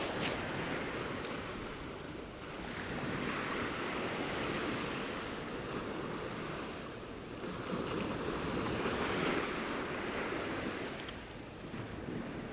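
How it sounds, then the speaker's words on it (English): Sea waves rolling onto the beach at Portobello as the tide comes in make a continuous broad wash of surf that swells and recedes in slow surges, with wind buffeting the microphone, loud and close with no voices. "the tide is coming in pretty fast"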